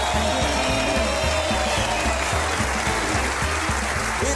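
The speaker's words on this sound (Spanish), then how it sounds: "Un aplauso para él." Steady applause from a crowd fills the whole clip, with dense clapping and a rhythmic thumping beat underneath.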